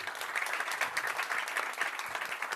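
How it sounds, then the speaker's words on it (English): An audience claps for a speaker after an innovation talk, dense fluttering applause sustained at a steady level for the whole stretch with no voices over it. "please help me give a round of applause for Ted."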